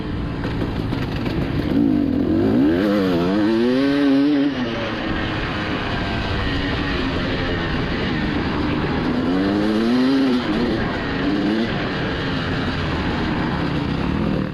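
A dirt bike engine races through a hare scramble course, its pitch repeatedly climbing and falling through gear changes under steady rushing wind noise close by.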